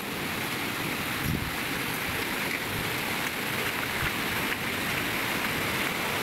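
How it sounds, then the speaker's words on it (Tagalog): A small river flowing out of rice fields, heard as a continuous broadband rush of water, steady and fairly close, with no voices. "Maliit na ilog, guys."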